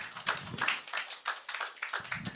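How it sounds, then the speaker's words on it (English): Applause from an audience at a lecture on Nigeria's economy, a few hands clapping unevenly in faint, scattered bursts that thin out and pick up again over a couple of seconds, with no voices over them. "Please, let's keep the applause going."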